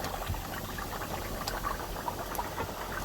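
Lard melting and bubbling in a pot as it renders, a dense continuous patter of small pops and bubbles, close and moderately loud, with no talk.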